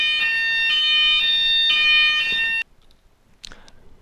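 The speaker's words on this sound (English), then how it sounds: "That was the fire alarm test." Fire alarm test in a classroom: a loud, piercing electronic alarm tone rings steadily with brief pulses for about two and a half seconds, then cuts off abruptly to near-silence with a faint high chirp afterward.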